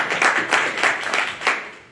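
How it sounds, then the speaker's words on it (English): Applause from an audience at a Somali American Chamber of Commerce annual event, a close, dense patter of many hands with a few swelling surges that fades out toward the end. "Round of applause to that guy."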